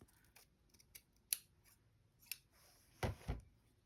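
Scissors cutting fabric for a deer cushion, a series of close, crisp snips spaced unevenly, ending in two louder closing cuts, with no talking.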